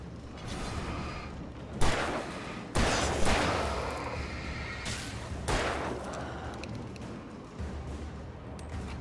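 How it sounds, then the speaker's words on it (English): Shotgun blasts go off in the video game Alan Wake: three loud, booming shots spaced a few seconds apart, each with a long rumbling decay, over a constant murky game ambience. "apparently I gotta shoot that guy with my shotgun"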